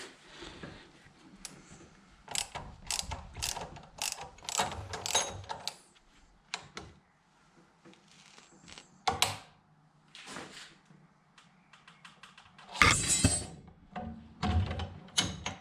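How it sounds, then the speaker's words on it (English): A bolt is worked loose by hand on a BMW N52 engine near the intake camshaft and Valvetronic parts, and it strips against the metal. Close, irregular metallic clicks, ratchets and clanks come in bursts with quiet gaps between them. "You would hold this down and let the other person kind of unbolt it, but I'm gonna just try on my own."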